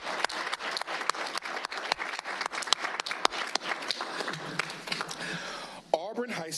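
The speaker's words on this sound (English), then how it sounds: "we're going to give her a round of applause anyway." A crowd at a school board meeting claps and cheers steadily, dense applause with a few whoops, fading near the end as a voice begins to speak.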